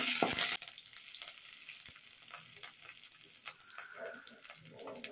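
Curry leaves drop into hot oil already tempering with mustard seeds, cumin and dried red chillies for a Chettinad banana flower kootu, giving a loud sharp burst of sizzle that quickly settles into a softer, steady crackle and fry.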